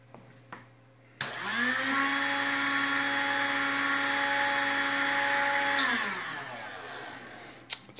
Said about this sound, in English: I'm going to just try to get this heat gun going for as long as it goes before it shuts off.